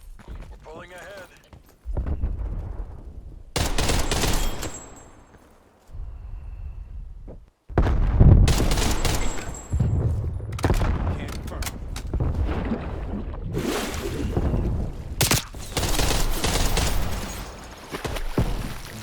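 Gunfire in Call of Duty Black Ops Cold War during a deathmatch, with rapid bursts of shots between quieter stretches, loud and punchy against game ambience, while a person talks over parts of the action.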